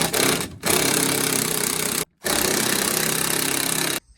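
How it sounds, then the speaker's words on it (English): Impact gun spinning a 1/2-inch socket on steering column bolts of a 1969 Chevy Corvair, two long sustained loud buzzing bursts with a short gap and a brief blip at the start, close up. "So you grab your 1/2-inch socket, hook it up to your impact gun, and you just rinse and repeat."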